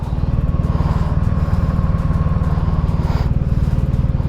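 A 2024 Honda Gold Wing GL1800 six-cylinder motorcycle rolls slowly with a close, steady, throbbing engine pulse and some wind noise over it.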